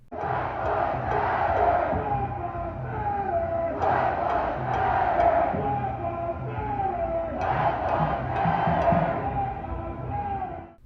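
A large crowd at a night-time protest in Portland, loud and sustained, with massed shouting and chanting that swells in repeated waves over a continuous roar of voices.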